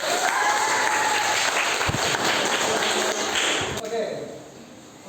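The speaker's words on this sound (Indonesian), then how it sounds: "kita beri aplaus untuk kelompok" A classroom applauds a student group during a teaching session, a dense burst of clapping that holds steady, then thins and fades out near the end.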